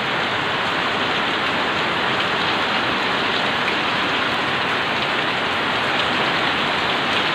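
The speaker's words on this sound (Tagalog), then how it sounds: "Ayun na naman siya, lakas ng ulan" Heavy rain pours down in a dense, continuous hiss, loud and unbroken throughout, with no voices.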